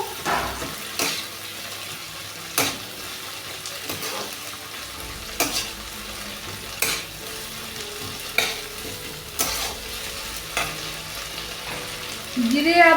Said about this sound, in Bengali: মৌরি বাটাটা দিয়ে দিলাম দিয়ে নেড়ে নেবো